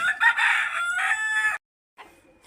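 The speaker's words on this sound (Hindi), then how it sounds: "मुर्गे भी सारे बाहर ही हैं धूप पर बांधे हुए" A rooster crows loudly and close for about a second and a half. The bird is one of several tied outside in the sun at a poultry-keeping yard. A brief fainter cluck or call follows after a short silence.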